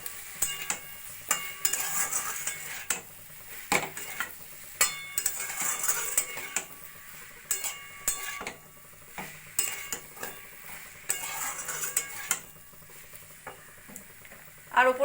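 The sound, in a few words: stirring broccoli with soy sauce in a pan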